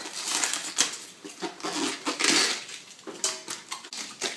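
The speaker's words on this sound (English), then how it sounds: "And here will be the cabbage, a red cabbage. I guess I'll just rip the leaves off like that." Leaves being torn off a red cabbage by hand in a kitchen, a run of close, crisp crackling rips and snaps in uneven bursts, with light knocks of pots nearby.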